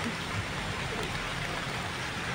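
Rain falls steadily, producing an even, continuous hiss with no pauses or distinct drops standing out, and no voices are heard over it.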